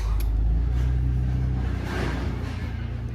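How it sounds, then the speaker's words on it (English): A loud truck rumbles past on a nearby road, a heavy low engine roar that swells and eases over a few seconds with no one speaking. "wait for this loud ass truck to pass"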